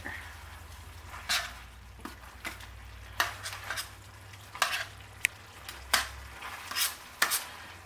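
Chicken in a honey balsamic marinade sizzles in a pan on the stove while being stirred, with intermittent bursts of scraping and clatter against the pan over a low, steady frying hiss.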